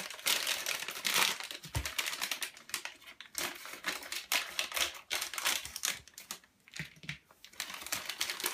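A plastic ration pack bag, a military breakfast set of dry foods, crinkles and rustles continuously while being opened by hand, close and busy with sharp irregular crackles throughout.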